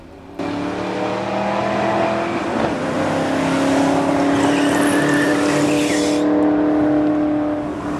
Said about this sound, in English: Up next was the final pass on the truck.